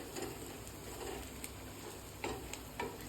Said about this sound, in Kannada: ಮಸ್ತ್ ಚಟಪಟ ಹಾಕ್ಬೇಕ್ರಿ. 2 ಟೇಬಲ್ ಸ್ಪೂನ್ ಎಣ್ಣೆ ಹಾಕೋಬೇಕ್ರಿ.